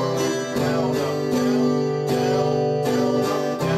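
An acoustic guitar strums chords in a pattern of quarter and eighth notes, full and close, each stroke sharply attacked and sustained in an even pulse.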